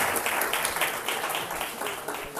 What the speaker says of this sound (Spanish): Un aplauso para Catediano.